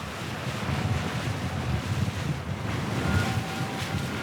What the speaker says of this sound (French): Aujourd'hui, sur l'eau, des rafales à 70 km/h.